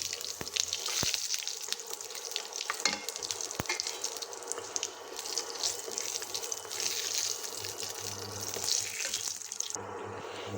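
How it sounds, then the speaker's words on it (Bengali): Whole cumin seeds, dried red chilies and bay leaves frying in hot oil, a continuous close crackling sizzle with scattered pops and occasional stirring clicks, dropping off abruptly near the end. "ফোড়নটা এবার ভালো মতো ভাজা ভাজা করে নিব"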